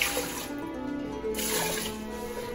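Water poured from a tap into a pot of rice, a short steady splashing gush with a brief dip midway, fairly quiet and close.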